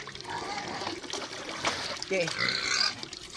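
Water trickles and splashes as it is poured steadily into a pigs' water trough on a farm, with a person talking over the flow.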